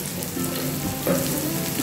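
Vegetables frying in hot oil in a pan for a Bangladeshi dish with dal, a steady close sizzle with a brief louder burst partway through, no voices.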